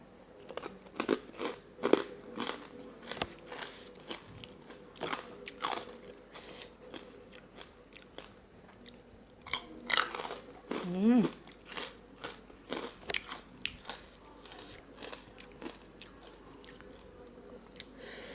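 Crunchy fresh and blanched vegetables are chewed with rice and fermented-fish chili paste, giving close, loud, repeated bites and crunches in an uneven rhythm throughout.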